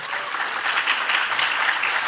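At an international medical congress, a crowd claps for the conference president, a continuous, full wash of applause with no gaps, close and fairly loud throughout.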